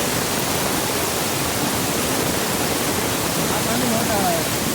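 Broad, steady roar of a flooded river in the Konkan region rushing past at full volume, a continuous loud wash of water close by with no break.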